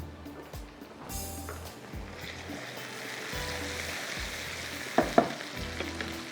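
Chopped onion frying in oil for chicken stuffed fry buns, a soft continuous sizzle with stirring scrapes and a couple of sharp spoon clinks near the end, over low background hum.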